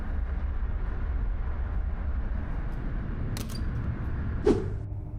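Flytoget airport express train near Oslo running out of a tunnel, a steady low rumble and rolling noise throughout, with a couple of brief creaks and a short clunk near the end.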